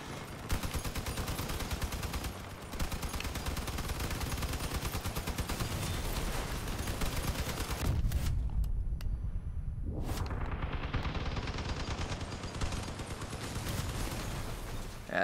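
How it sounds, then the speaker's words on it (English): Sustained machine-gun fire from armored vehicles in the video game Crossout, a steady rattling roar that runs almost unbroken, dips out briefly, then resumes with a rising whine. "I'll just bleed all 3 machine guns"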